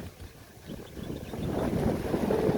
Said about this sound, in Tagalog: Oh, may hangin na.